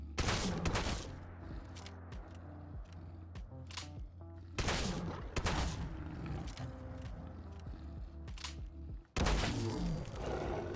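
An upgraded shotgun with an advanced receiver fires Dragon's Breath rounds at a Deathclaw in Fallout 4, giving four loud, booming blasts spaced a few seconds apart, each trailing off over a low rumbling game ambience.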